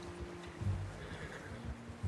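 Horse in the Red Dead Redemption II video game neighs with a short whinny over low hoof and ambient sounds, no talk.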